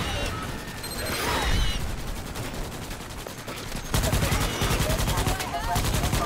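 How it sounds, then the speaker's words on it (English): Sustained automatic gunfire in the video game Starship Troopers: Extermination, rapid machine-gun bursts layered into a loud, dense fusillade that swells and continues throughout, with a voice briefly heard over the shooting. "Quit shooting me."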